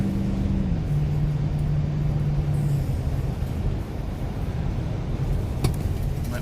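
A Toyota Land Cruiser accelerates hard from a standstill and runs up through the gears, a steady engine drone heard from inside the cabin with a sunroof cracked, droning on without a break, with rising tones settling as it shifts.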